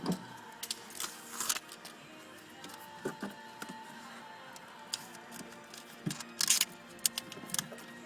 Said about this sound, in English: we'll just wrap that bit of tape around